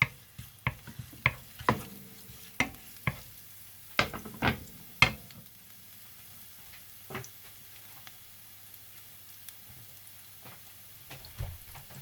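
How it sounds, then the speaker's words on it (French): Garlic and shallots sizzle in oil in a pan while a utensil clacks and scrapes in a quick run of knocks, then only the quieter sizzle continues. "on va sauter de l'ail et des échalotes dans un pan avec de l'huile"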